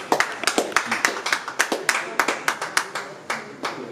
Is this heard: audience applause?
yes